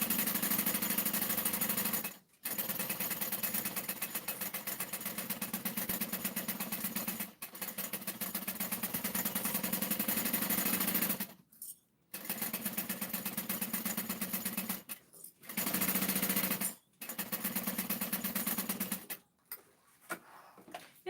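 A sewing machine runs in long steady bursts as two pieces of fabric are basted together, its fast even stitching hum stopping briefly several times between runs, close and clear with no talking.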